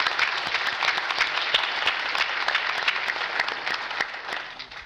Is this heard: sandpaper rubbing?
no